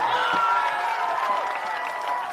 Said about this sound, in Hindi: अब जिसको जिसको ताली बजाना है बजा लो।